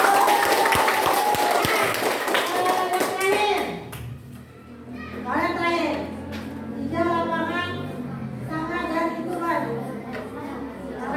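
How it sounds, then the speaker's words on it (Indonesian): A class of children claps together in a burst of applause, followed by lively children's chatter and voices talking over the room. "Tepuk tangan dulu."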